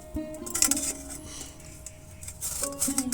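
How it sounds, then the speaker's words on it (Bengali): Peeled medium potatoes are rubbed against a metal kitchen grater, giving faint scraping strokes and light metallic clinks in a few short bursts, close by with no talk. "এবার এগুলো এই যে একটা গ্রেটার নিয়েছি এর সাহায্যে গ্রেট করে নেব"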